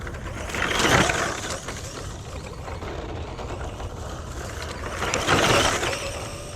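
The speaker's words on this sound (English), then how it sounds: "it's slowing down now. I think the motor may be toasted. It just dropped in speed" Small electric motor of a Kyosho Beetle RC car running on 3S, whining past in two louder swells, one early and one late, with a quieter steady hum between as it loses speed.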